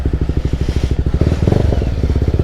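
Kawasaki NK250 motorcycle fitted with an Akrapovic exhaust, its engine loud and close, idling in a fast steady pulsing burble, then rising briefly with a throttle blip before settling back to the same rhythmic idle.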